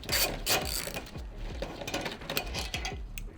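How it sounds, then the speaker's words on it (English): A ratchet wrench working loose a headlight bolt on a Honda Integra DC2 during fender removal, with quick clicking and mechanical rattles up close over a steady background. "I'll remove the headlight bolt right here."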